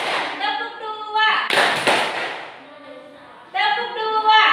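Students in a classroom clap their hands in a concentration clapping game, a short burst of claps rising between stretches of a woman teacher's speech.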